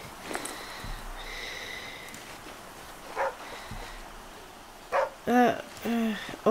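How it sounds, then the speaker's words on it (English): A dog barks in the survival game The Flame in the Flood, a few faint snorts early on, then a cluster of sharp, close barks near the end over quiet outdoor ambience. "What are you barking at?"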